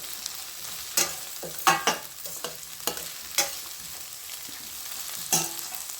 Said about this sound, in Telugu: కొంచెం ఒక గుప్పెడు పుదీనా పుదీనా కూడా మంచిగా వేయించుకోవాలి